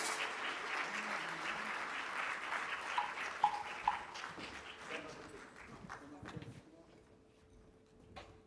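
Audience applause at the opening ceremony of a sustainable tourism conference in Grenada, a sustained crowd clapping that gradually thins out toward the end, with voices and some speech mixed in.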